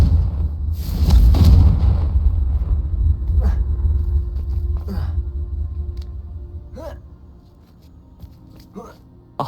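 In the Hogwarts Legacy video game, the Confringo fire spell goes off as a deep, booming explosion that swells and then rolls away into a long rumble, with a few sharp smaller effects afterward.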